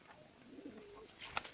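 A dark, nearly black pigeon with a white feather in its wing, held in a person's hand, gives a single soft, close coo followed by a brief flutter.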